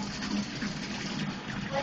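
Water gushes in a steady, continuous stream while a girl's hair is being washed, close and moderately loud with no break.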